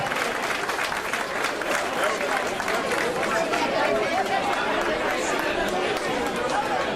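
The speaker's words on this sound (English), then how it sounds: "Would you give a nice warm round of applause?" A live audience gives a sustained round of applause for an a cappella harmony group, dense, even clapping lasting several seconds, mixed with crowd chatter.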